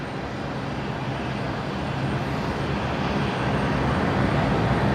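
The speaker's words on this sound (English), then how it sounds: "there is absolutely a go-around here" Aircraft engines roaring during a go-around at Brisbane Airport at night, a loud continuous broadband rumble that swells slightly as the plane climbs away.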